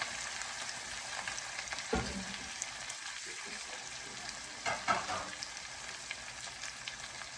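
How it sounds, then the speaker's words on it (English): Creamed corn fries in a pan with a steady, soft sizzle, broken by a few brief scraping stirs of a utensil against the pan. "I'm just taking stir it, and I'm just going to let it fry a little bit."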